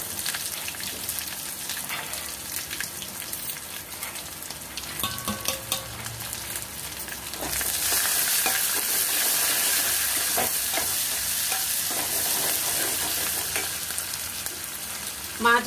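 Garlic and onion frying in hot oil with tempering spices for tomato dal, a dense, steady crackling sizzle that grows louder and fuller partway through, with occasional stirring sounds.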